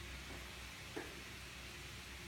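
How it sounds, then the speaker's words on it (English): Steady, close sizzling of meat frying in a hot pan, a constant crackling hiss that runs without a break. "You can hear that sizzle."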